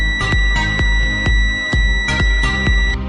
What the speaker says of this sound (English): The pen contacts both ends of the wire, and the beep is normal